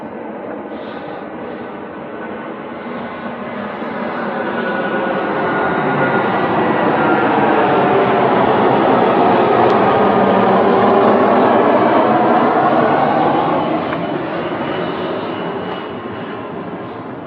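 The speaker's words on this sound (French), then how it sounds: "On va attendre que l'avion passe." A fixed-wing airplane passes overhead beside a cemetery, a broad steady engine roar that swells in the middle and slowly fades, heard alone with no talk.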